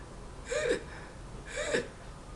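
A voice imitates strained, wheezing breathing through a throat swollen shut, two rasping gasping breaths about a second apart, close and clear.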